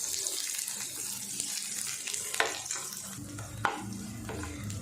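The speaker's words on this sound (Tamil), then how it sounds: "சேர்த்துட்டு வெங்காயம் பார்த்திங்கன்னா கண்ணாடி பதளவுக்கு வதக்கி விட்டுருவோம்." Onions sautéing in a pan for a Tamil side dish, a soft steady sizzle with occasional stirring and scraping sounds, close and fairly quiet.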